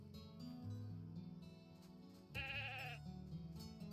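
A sheep in a video game bleats loudly and close, a quavering cry that follows a low steady hum of game music or ambience.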